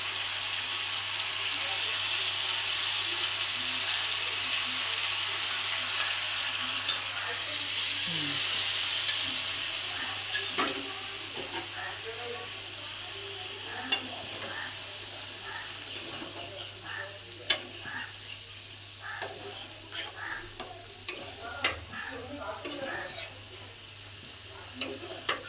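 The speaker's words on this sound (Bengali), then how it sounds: "ওটা দিয়ে একটু মশলার সঙ্গে মাখিয়ে নিই।" Jackfruit and chicken being stirred with spice paste in a pan, a faint steady sizzle under scattered clinks and scrapes of a spoon against the pan, with occasional speech.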